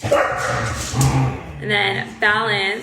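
Dogs bark and whimper outdoors in the background, with yips and drawn-out whiny cries rising near the end while a person keeps talking over them.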